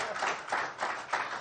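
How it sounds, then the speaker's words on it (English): An audience applauds an interpreter at a medical workshop, a steady patter of many hands clapping in a brief burst with slight pulsing swells, moderately faint and without talk. "A round of applause for the interpreter, please."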